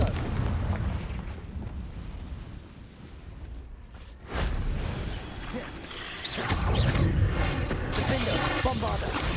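The Confringo blasting spell in the game Hogwarts Legacy sets off loud, booming explosive bursts over a steady rumble of combat noise, with a voice shouting over the action.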